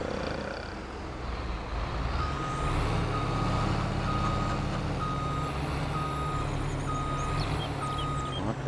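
A lorry reverses in Farming Simulator 22 on a farm map. Its reversing alarm sounds evenly spaced beeps over a low, steady engine rumble that grows louder partway through, with no speech.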